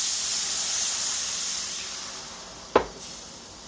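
Liquid hits a hot pan of toasted flour and milk powder for gravy, setting off a loud, steady sizzling hiss with one sharp splash burst near the end.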